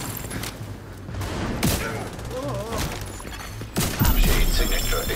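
Gunfire and explosions in the video game The Division 2, with scattered shots, booms and thuds mixed with game voices, ending in a louder burst.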